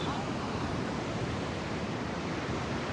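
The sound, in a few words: beach at Seminyak, waves and surf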